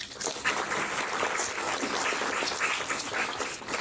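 Audience applause for two alumni speakers at a university marketing talk, a steady dense clapping that fills the room without pause.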